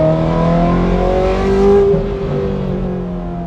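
Ferrari engine revving at high pitch, loud and sustained, with layered harmonic tones that rise slightly mid-clip then settle into a steady high-revving wail, close up and alone.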